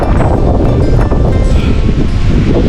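Strong wind roars steadily across a mountain trail on the climb to a balete tree, a loud, continuous buffeting rush against the microphone that never lets up.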